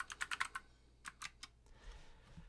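Keys on a computer keyboard under macOS being pressed, a quick burst of four or five clicks, then a few scattered single taps, close but quiet, with no voices.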